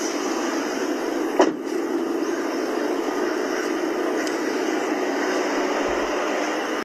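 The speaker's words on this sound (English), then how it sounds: "Is that a news copter?" A helicopter flies overhead, carrying a patient to hospital, producing a steady, fairly loud broadband roar that holds through the whole stretch with no speech.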